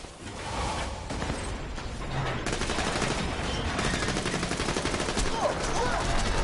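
Sustained, loud automatic gunfire from Borderlands 2, a dense rapid barrage of overlapping shots running throughout with no pauses.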